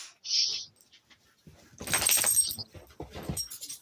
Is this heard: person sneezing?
no